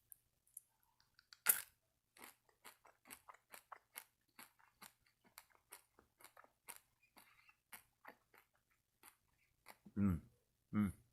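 Close crunching and chewing of small fun size hard-shelled candies, a steady run of crisp bites and munches spread across the stretch, with a couple of louder mouth sounds near the end.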